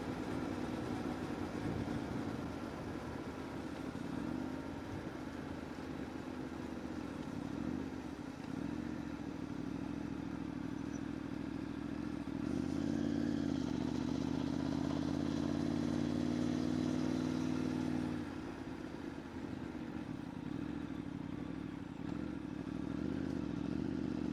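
A motorcycle engine runs steadily nearby throughout, a continuous low rumble that swells louder in the middle as it revs up, then settles back to a steady idle-like drone.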